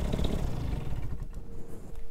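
A Moster 185 paramotor engine runs steadily after carburetor tuning, a close, continuous buzzing drone that settles toward a smoother, slightly higher idle.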